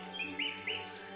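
Birds chirp in a forest scene in the video game Beyond The Edge Of Owlsgard, three short bright tweets in quick succession over a steady ambient background, no talking.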